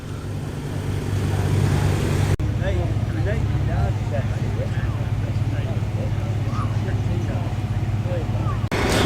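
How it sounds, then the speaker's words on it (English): Honda Civic race car warming up in the paddock at Oulton Park during a classic sports car meeting, a steady low engine drone running throughout with chirping birds and brief clicks over the top. "Honda Civic warming up"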